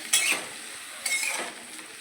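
A spatula stirs a turmeric mixture sautéing in oil in a pan: two short scraping strokes over a faint, quiet sizzle.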